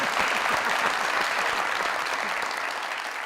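A studio audience at a Pakistani comedy show claps steadily for about three seconds, dense and fairly loud, easing slightly toward the end with no talk over it.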